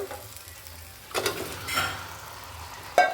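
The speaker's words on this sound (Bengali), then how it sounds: "এবার আমি এর মধ্যে আগে থেকে যে মাংসটাকে নুন হলুদ দিয়ে মেখে রেখেছিলাম আমি এবার এর মধ্যে দিয়ে দেব" Salted, turmeric-rubbed meat goes into hot oil and spice paste for a Bengali-style curry, sizzling steadily while a spoon stirs and scrapes the pan in bursts, close and clear with no voices.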